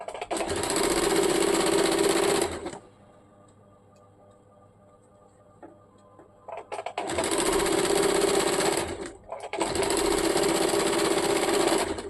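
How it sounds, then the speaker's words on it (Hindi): A sewing machine stitches the hem on a salwar leg in three loud, fast runs. Between the first and second burst comes a quiet pause with faint handling clicks. "इस प्रकार से एक पॉइंट हटा के इसके ऊपर मोहरी में सिलाई चला लेंगे सीधा के ऊपर से"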